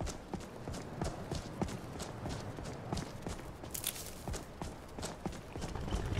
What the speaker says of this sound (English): My new horse.